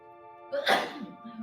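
A single sharp sneeze bursts out over a steady background hum, loud and close, followed by a brief rustle.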